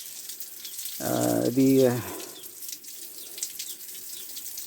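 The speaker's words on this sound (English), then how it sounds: "here is the flow of water from the faucet" Water gushes steadily from a farm faucet fed by a raised storage tank near the pig pens, a constant hiss and splash with someone speaking briefly over it.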